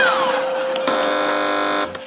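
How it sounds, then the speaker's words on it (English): A game show buzzer sounds on a panel quiz, a sustained electronic tone held loud and steady for nearly two seconds before cutting off, with a brief falling tone at the start. "OK, fingers on buzzers, teams."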